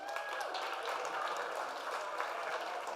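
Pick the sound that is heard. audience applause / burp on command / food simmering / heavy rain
audience applause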